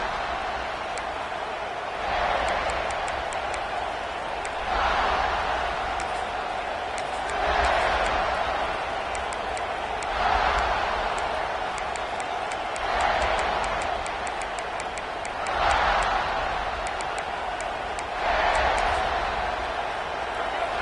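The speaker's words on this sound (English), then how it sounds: "This crowd bringing the energy and noise early." Crowd noise fills a football video game stadium, swelling rhythmically every few seconds in steady waves under a commentator's voice.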